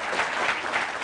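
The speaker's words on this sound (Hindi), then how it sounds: "कपिल देव जी के लिए एक बार फिर से जोरदार ताली" Brief burst of audience applause for cricketer Kapil Dev in a TV show studio, a steady dense wash of clapping at moderate level with no voices.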